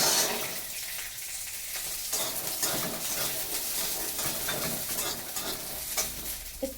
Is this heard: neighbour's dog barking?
no